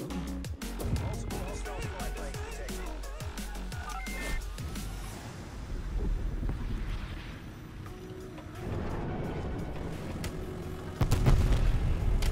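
Artillery strike explosions in Call of Duty Black Ops Cold War, a series of heavy booms and rumbling impacts with scattered gunfire, dense and loud throughout, while a voice talks over the barrage.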